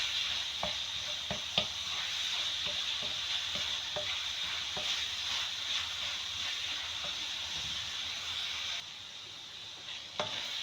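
Minced meat keema with fenugreek leaves frying in a pan gives a steady bright sizzle throughout, punctuated by scattered short taps and scrapes of a spoon stirring, close-up with no voices.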